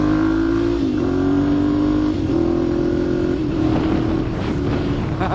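A Ducati Monster 1100 Evo motorcycle engine drones steadily while riding, its pitch climbing through the gears and dipping briefly at each shift, loud and close, with no talking.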